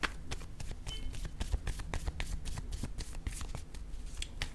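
A deck of tarot cards being shuffled up close, a steady run of crisp riffling flicks and soft slaps filling the whole stretch with no talking.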